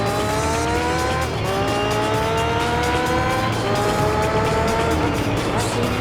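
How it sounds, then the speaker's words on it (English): A Nissan drifting in Gran Turismo 3, engine whining steadily at high revs while the tires squeal through a corner, a continuous loud race-car sound with voices talking faintly beneath. "He's trying to drift that fucking Nissan, bro."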